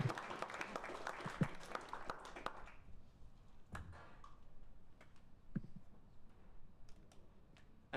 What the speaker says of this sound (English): one more round of applause for Ford